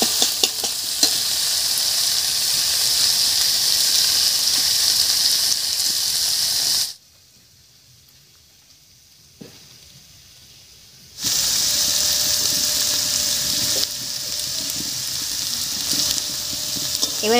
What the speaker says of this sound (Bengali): এবারে হালকা হাতে পেঁয়াজের সঙ্গে মিশিয়ে নেব।